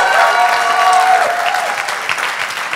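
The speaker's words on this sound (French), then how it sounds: "Est-ce qu'on peut acclamer plus fort le Seigneur?" A church congregation applauds at a baptism celebration, a close, dense clapping that holds steady for a few seconds and slowly thins out.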